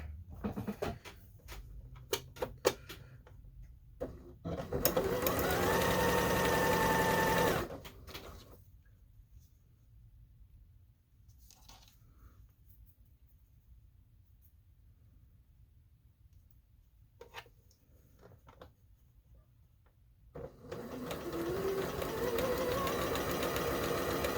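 A sewing machine fitted with a quarter-inch foot stitches small fabric patchwork pieces together for a four-patch block, running in two loud steady bursts with quiet handling and a lull between them, no talk.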